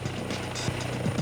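A police helicopter hovers overhead during a pursuit of a stolen car, its steady rotor thrum and engine drone filling the background as a continuous wash.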